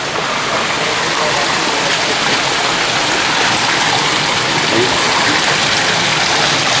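Water pours from the many spouts of the Fountain of the 99 Spouts into stone basins, a loud, dense and continuous rushing splash that stays close and steady throughout with no voices over it.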